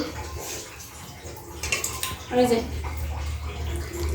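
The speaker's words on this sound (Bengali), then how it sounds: "এখন একটু গরম জল দিয়ে দেবো" Hot water is poured into a pot of curry, a brief splashing gush rising partway through under someone speaking over the cooking.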